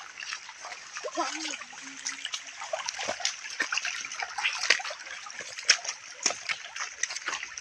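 Water splashes and trickles as people wade through a shallow, low river, a steady sloshing with irregular splashes, fairly faint, with occasional distant voices.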